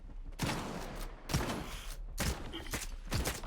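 Four evenly spaced, muffled gunshots from the Combatant weapon in Stalker 2, each a sharp crack with a short tail, at moderate distance over low background hum.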